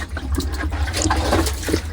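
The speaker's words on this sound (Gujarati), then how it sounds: "પાણી પહેલાં તો ભરવું પડશે ટાંકીની અંદર" Water pours into a storage tank with a continuous, fairly loud rushing and splashing flow and no voices over it.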